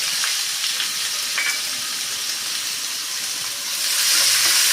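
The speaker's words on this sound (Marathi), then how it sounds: "कांदा मस्त परतला गेला पाहिजे" Onion fries in hot oil with cumin seeds, asafoetida and curry leaves for a dry potato sabzi. It gives a steady, loud, close sizzle with no talking.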